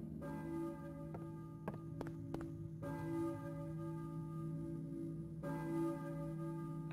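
A church bell in the Silent Hill video game tolls three slow strokes, each ringing out and fading, over a steady low hum.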